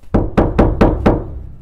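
Five firm knocks on a door in the Wynncraft video game, evenly spaced and loud, heard alone with no talking.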